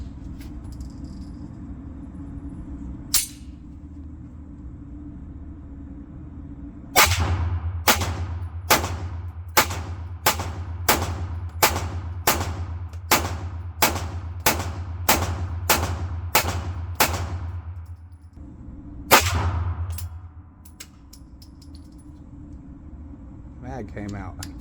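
PSA Micro Dagger pistol firing at an outdoor range: a single early shot, then a rapid string of about fourteen sharp, loud reports in steady rhythm, followed by one more shot, over a low steady hum.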